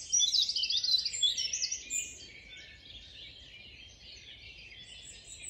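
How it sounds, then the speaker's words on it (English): A blackcap sings a strident warbling song in the dawn chorus at Hembury woods, among other birds calling from all around. "one of the birds singing just above us here is the blackcap"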